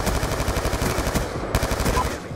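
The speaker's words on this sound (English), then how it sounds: "He just took so many shots." Rapid automatic gunfire in Black Ops 2, a dense, loud burst of evenly spaced shots that continues for over two seconds before trailing off.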